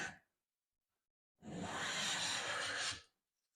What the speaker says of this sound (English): I'm making shavings